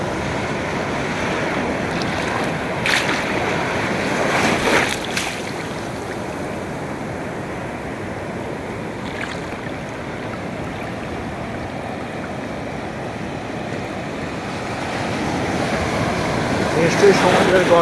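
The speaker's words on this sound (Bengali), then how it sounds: "দেখুন, বিশাল বিশাল ঢেউগুলো এগিয়ে আসছে আমার দিকে।" Big ocean waves roll in on the beach at Cox's Bazar, a steady loud broadband surf roar with wind buffeting the microphone and slight swells in intensity, sustained throughout with no voices.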